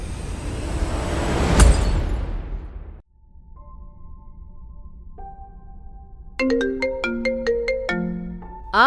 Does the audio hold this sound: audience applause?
no